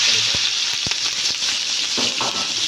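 Onions and green chillies frying in hot oil with crackled cumin for a village-style potato and chicken curry, giving a close, loud, continuous sizzle broken by a few sharp clicks and scrapes of stirring.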